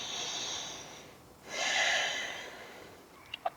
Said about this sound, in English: 2 more breaths here in mountain pose